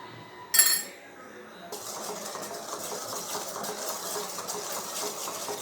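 Thickening milk stirred in a pan on a low flame for pala kova, a metallic clink followed by a steady scraping and rubbing of the spoon against the pan bottom.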